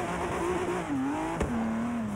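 A car engine in Forza Horizon 3 holds a steady high drone, easing off and climbing again with a brief knock midway, loud and close throughout.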